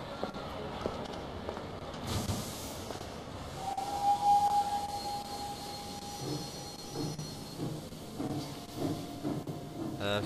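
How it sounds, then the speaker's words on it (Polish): A steam train in a Harry Potter video game slowly accelerates, giving a steady hissing rumble with a sustained whistle-like tone near the middle, heard at moderate loudness under faint background sound. "się wolno rozpędza ten pociąg"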